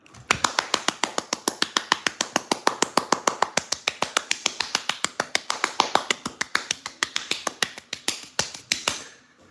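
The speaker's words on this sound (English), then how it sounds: "That sound was me clapping" A person claps their hands quickly and steadily for nearly ten seconds, each sharp, close clap evenly spaced in a fast, unbroken rhythm with no talking.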